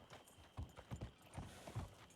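Horse hooves clip-clopping in the RedM game, a steady run of soft, fairly quiet hoof beats spaced through the moment with no talk over them.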